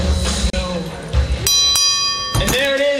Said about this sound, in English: And there it is, the bell.